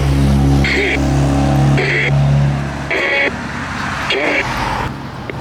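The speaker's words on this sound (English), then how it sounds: "Still a lot of traffic." Traffic crosses the Reversing Falls Bridge, with cars passing close in a steady stream of engine rumble and tire noise, while people talk nearby.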